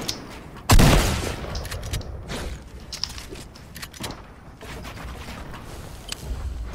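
Gunshots in an online shooter game: one loud sharp blast near the start, then several fainter scattered shots and clicks over a low game-sound background.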